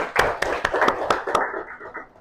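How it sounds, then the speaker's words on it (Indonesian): Classroom applause for a pupil during an Islamic studies lesson, a short burst of distinct hand claps, close and fairly loud, fading into lighter scattered clapping toward the end. "Beri tepuk tangan buat si Zayan."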